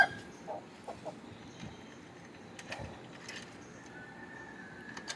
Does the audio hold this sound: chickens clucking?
yes